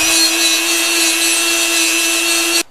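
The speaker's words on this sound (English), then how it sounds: "I'll detail all that out with the Dremel tool. I've got a little stainless steel wire brush on here." A Dremel tool fitted with a small stainless steel wire brush scrubs aluminum parts of a 1973 Honda CB750, a steady high-pitched whine with bristly hiss that cuts off abruptly near the end.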